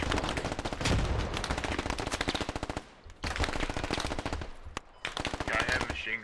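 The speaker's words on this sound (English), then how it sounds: "Yeah, I have machine guns as well." Machine gun fire in the DCS combat video game: long, loud, rapid automatic bursts at a fast, even rate, broken by short pauses, close and dominant.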